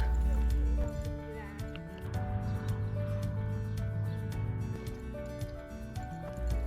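A horse lopes under saddle for a few strides, its soft hoofbeats rhythmic and fairly close, with breathing and tack noise mixed in and no clear talk.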